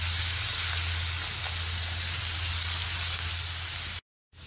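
Onions frying in a pan over a medium flame, a loud steady hissing sizzle with a dense crackle that runs unbroken and then cuts out abruptly for a moment near the end.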